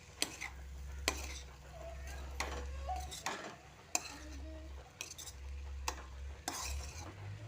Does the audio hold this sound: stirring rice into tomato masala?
yes